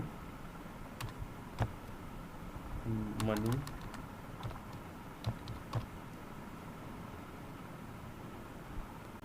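Faint typing on a computer keyboard while database records are entered into a C# form application, with scattered key clicks and a short burst of rapid keystrokes over a low hum, and someone speaks quietly at times.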